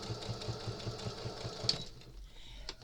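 A sewing machine runs steadily, stitching around the edge of a rag lap quilt with a fast mechanical whir, then stops partway through, leaving near silence with a sharp click at the end.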